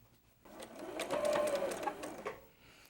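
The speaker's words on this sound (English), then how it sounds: "we're going to sew our straight edge" Close by, a sewing machine runs in one continuous whirring burst while a straight edge of a quilt piece is stitched, rising and then tapering off.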